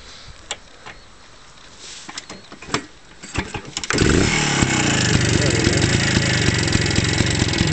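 Several clicks and mechanical clatters come first, then at about four seconds a motorbike engine catches and settles into a loud, steady idle close by for the rest of the clip.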